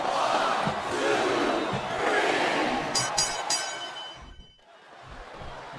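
Wrestling arena crowd cheering in the WWE SmackDown vs Raw 2007 video game during a women's championship ironman match, a loud sustained roar with a few sharp hits, dropping out briefly before swelling back.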